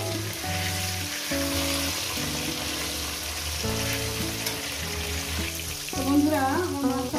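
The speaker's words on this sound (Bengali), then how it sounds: "আমার মাছটা ভাজা হয়ে গেছে" Pieces of katla fish fry in a pan with a steady, soft sizzle that continues for several seconds beneath louder music, growing briefly busier toward the end.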